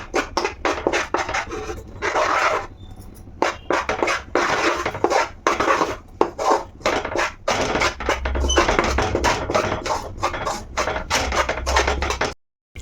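Flour being stirred into melted jaggery in a pot, a close run of repeated scraping and scratching strokes in an uneven rhythm, with brief pauses, no talking.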